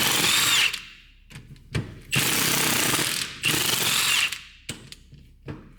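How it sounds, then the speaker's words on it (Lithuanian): Power tool unscrewing bolts on a car differential during a limited-slip conversion: loud whirring bursts of impact-style drilling, three long runs broken by short blips and pauses, close by with no talking. "Atsuksim šitus varžtus."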